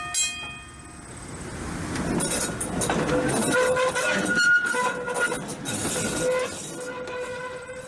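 A T1 train racing down a main line in North Carolina, with a rushing rail roar that builds in the middle, high whistle-like tones and brief wheel squeals before it eases off.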